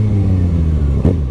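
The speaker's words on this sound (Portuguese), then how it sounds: "o barulhinho da ponteira fica mais da hora, né?" A Kawasaki ZX6R motorcycle with an open, straight-pipe exhaust idling and revving up close, a loud, rough, throbbing engine note with a brief blip near the end.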